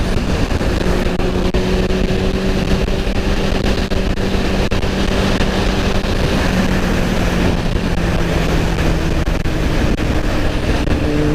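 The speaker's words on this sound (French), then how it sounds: "Il y a un de ces vents" Strong wind buffets the microphone while riding a 50cc motorbike on a sunny day, a loud, steady roar running throughout with a faint engine drone beneath it.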